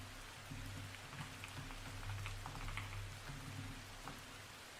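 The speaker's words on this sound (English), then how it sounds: "It was rain, light, yeah." Light rain falling in a soft, even patter with scattered tiny drop ticks, faint and distant, continuous throughout with a faint low hum beneath it.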